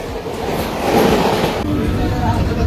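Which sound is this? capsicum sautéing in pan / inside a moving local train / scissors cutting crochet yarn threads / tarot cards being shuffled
inside a moving local train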